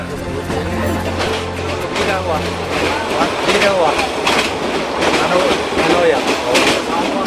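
A third-class carriage of a long-distance passenger train on a journey of more than 30 hours rumbles and clatters steadily throughout, with voices and chatter from people aboard heard over the running noise.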